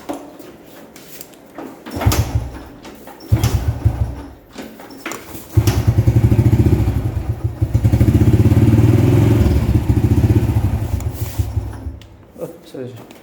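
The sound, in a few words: Honda C70 classic motorcycle engine running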